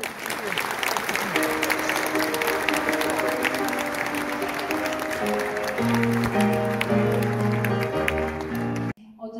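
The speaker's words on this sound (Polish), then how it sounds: "Wielkie brawa." Sustained applause from an audience at a New Year's meeting with the city mayor in Częstochowa, steady and full throughout, with background music rising underneath before it cuts off abruptly.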